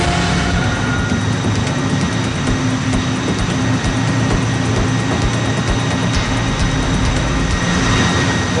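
A brand-new engine aboard a mega cargo ship runs at 110% load during an overload test, giving a loud, unbroken mechanical roar and drone that holds steady throughout, with no talking.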